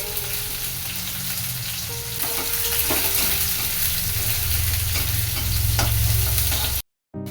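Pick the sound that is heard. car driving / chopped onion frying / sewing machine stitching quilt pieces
chopped onion frying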